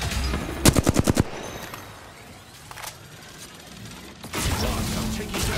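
Rapid automatic gunfire bursts loud and close in Apex Legends, followed by quieter scattered shots, mechanical clicks and rising game action noise.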